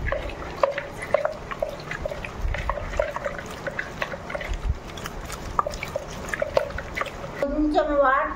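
Water drips and trickles into a pot of tamarind dal as it cooks, with small splashes and irregular liquid sounds close by, and a brief burst of clattering near the end.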